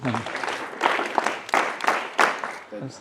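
Students in a communication skills class give a round of applause, dense clapping close by that rises and falls in waves for about three seconds.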